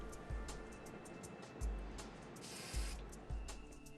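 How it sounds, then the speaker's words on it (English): A spray paint can sprays yellow paint in short bursts, a hissing spray with low thumps between them, one longer hiss midway, close and fairly loud. "Next, spray some yellow on top of the green."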